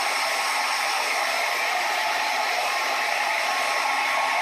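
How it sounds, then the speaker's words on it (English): A heat gun runs steadily on a PS3 circuit board being reflowed for a yellow-light fault, giving a constant, close, loud airy blow with no pauses and no talk. "The heat gun, you got a real good one, let it get up to about 400, 500."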